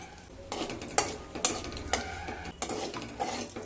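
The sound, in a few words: dried chilies and whole garam masala frying in oil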